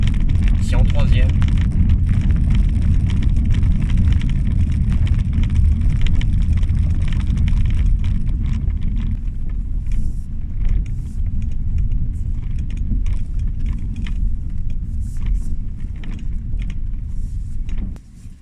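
Interior road noise inside a Citroën C3 at around 30 km/h in third gear: a steady, loud low rumble with tyre and engine drone throughout, easing slightly after the first half, with a few faint rattles.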